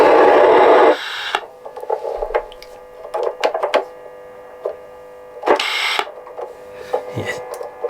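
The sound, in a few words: CB radio static with squelch open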